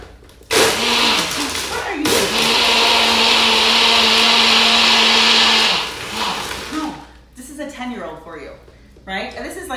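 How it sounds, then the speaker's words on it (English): A countertop blender whirs loudly for about five seconds while blending a keto Snickers shake, a steady high motor whine that starts abruptly and cuts off, with people talking before and after. "Yeah, I'll blend it for you."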